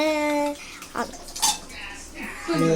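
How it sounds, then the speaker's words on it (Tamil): Metal utensil scraping and clinking against a pan while stirring fish with salt and chili powder, a few short strokes, close by, with a voice speaking intermittently. "உப்பு போட்டு லேசாக கிளறணும்"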